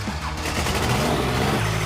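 A heavy engine revs hard and steadily, loud and close, with no voices.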